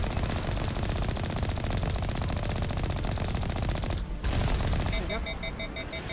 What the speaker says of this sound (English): I'm stuck on a turret.